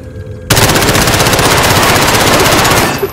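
Rapid automatic gunfire from Call of Duty Warzone bursts in loud and close after a brief quiet lead-in, sustained machine-gun rattling for nearly three seconds before cutting off.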